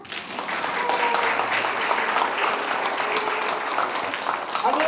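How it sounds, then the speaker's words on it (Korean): Sustained applause from an audience at a graduate school academic conference fills the whole stretch, a dense steady clatter of many hands clapping at once, fairly loud throughout. "6명 다 박수 한번 쳐보세요"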